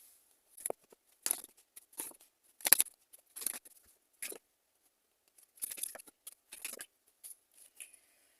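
Tarot cards being handled and drawn, a series of crisp papery flicks and slides in irregular bursts, close and fairly quiet.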